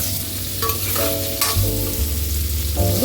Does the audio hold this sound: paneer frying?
yes